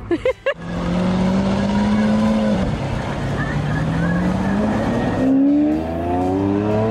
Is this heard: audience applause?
no